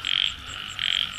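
Small field frogs croak together in a wet rice paddy, a dense ringing chorus that swells in two loud bursts and eases between them, close and steady with no one talking.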